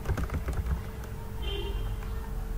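Typing on a computer keyboard while entering text into an Excel table, a quick run of close keystrokes in the first second, then a steady low background hum.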